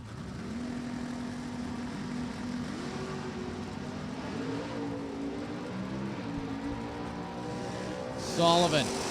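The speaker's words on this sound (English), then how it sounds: "Here comes the hard charge in Hemi, and it's going to be win light for Herb Sullivan." Drag racing car charging down the strip at an NHRA Lucas Oil Drag Racing Series event at Virginia Motorsports Park, a steady engine drone with rising pitch sweeps under a track announcer's commentary, ending in a brief louder burst.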